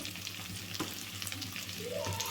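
Onion and green chili pieces frying in a pan, a close, continuous sizzle with scraping stirring noises and a short clink midway.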